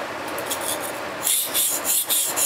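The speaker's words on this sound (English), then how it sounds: "always grind the same position and keep the angle 15 degrees. And grind like this." A kitchen knife is ground on a whetstone at a 15-degree angle. Close, steady scraping strokes go back and forth in a rhythmic rasp that gets brighter and more pronounced halfway through.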